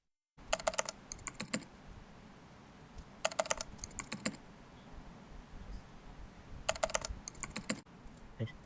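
Someone types a prompt on a computer keyboard in a quiet room, with several short bursts of rapid key clicks separated by pauses.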